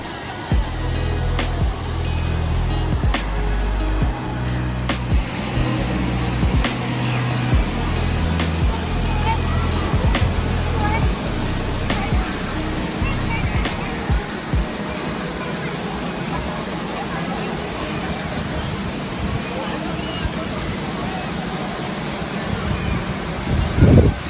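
The waterfall at Tham Phra in Seka district, Bueng Kan, gives a steady broadband rush of falling water, with loud low thumps and wind buffeting early on and scattered clicks over the constant roar.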